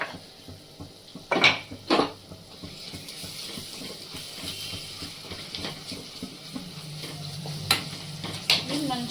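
Ginger garlic paste frying in a pan for crab curry, a steady low sizzle with a few sharp utensil clinks and stirring scrapes near the start and end.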